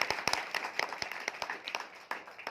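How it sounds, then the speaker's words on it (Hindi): Audience at a Friday training session clapping, a dense, steady round of applause from many hands, close and lively throughout. "जोरदार और जबरदस्त तालियां दोस्तों"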